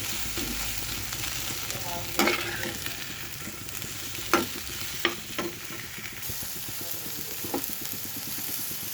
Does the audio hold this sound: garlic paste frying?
yes